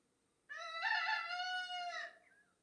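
A single rooster crow, one long harmonic call rising then trailing off, fairly near against a quiet background.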